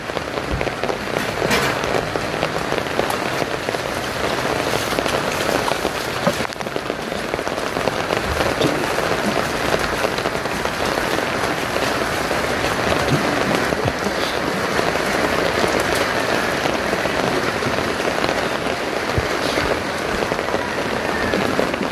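Heavy rain pours steadily onto a flooded street, a dense continuous hiss and patter of drops on water and surfaces that stays loud and unbroken throughout, with no voices.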